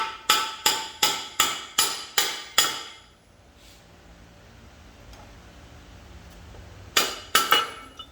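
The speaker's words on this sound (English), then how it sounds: "I was just tapping this end here" A steady run of seven metallic brass hammer taps on the end of an M5R1 transmission countershaft at an even pace, then a pause, then three more quick taps, close and ringing.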